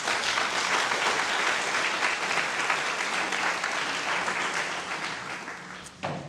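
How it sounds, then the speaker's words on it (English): Sustained audience applause fills a hall at a youth awareness conference, dense and steady clapping from a large crowd that tapers slightly toward the end, with no voices over it. "a round of applause to everybody that's been on the stage and here today"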